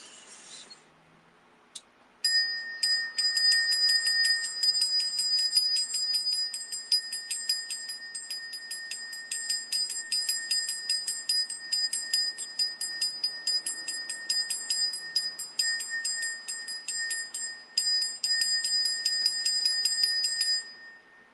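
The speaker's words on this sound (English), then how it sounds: "We're gonna ring a bell." A small bell rings during a sound healing session, struck in rapid repeated strokes after a brief quiet pause, a bright shimmering metallic tone that rings continuously with slight pulsing for about twenty seconds, close and clear with no talking.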